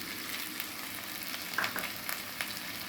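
Onions and capsicum with spice powders sauté for pav bhaji in a pan, giving a close, steady sizzle with a few soft stirring scrapes and clicks near the middle.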